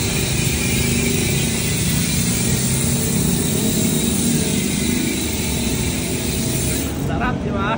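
Rapid, continuous ratcheting clicks from a PAPS Pro-1 v6 bicycle freehub with six pawls and three engaged at a time, loud and dense throughout outside a bike shop, easing slightly near the end.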